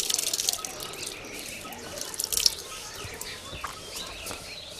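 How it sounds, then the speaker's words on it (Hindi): Water poured onto a mix of red soil and cow dung, heard as soft, close splashing and trickling with scattered drips, fairly quiet with faint birds in the background. "देखिए इसमें पानी डाला जा रहा है"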